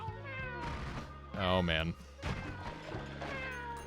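A video game cat lets out a loud drawn-out meow over background music, with a person speaking briefly before and after it.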